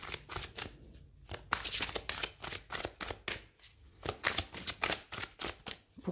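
Oracle cards riffled and shuffled close up, a quick run of crisp flapping bursts with short pauses between them, fairly quiet and with no talking.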